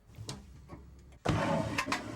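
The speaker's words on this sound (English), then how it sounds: "Now for the high-tech version of the ultra-low flush commode." A loud, expensive high-tech ultra-low-flush toilet flushes with a sudden, sustained roar like an engine, starting abruptly after a quieter stretch of background noise.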